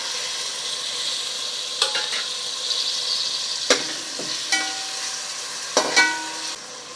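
Tomato and masala stirred and frying in a pan, a continuous bright sizzle with occasional scraping clinks and squeaks of the spoon against the metal, close and alone.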